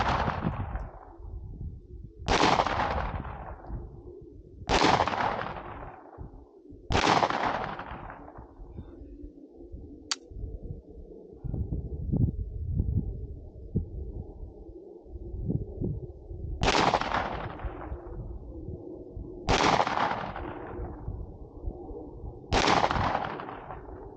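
Seven sharp, loud pistol shots from a Turkish-made 2011 handgun fired outdoors, spaced a few seconds apart with a pause midway, each cracking sharply and decaying quickly, with no talking.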